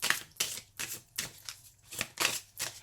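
Tarot cards being shuffled by hand, a quick series of crisp riffling, slapping bursts repeating in an uneven rhythm, close and fairly quiet with no talking.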